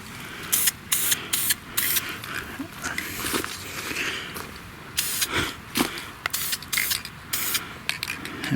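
Short bursts of spray paint being applied to a 1932 Delco 16-inch electric fan during restoration, about a dozen close, loud hissing puffs in uneven rhythm with brief pauses between them.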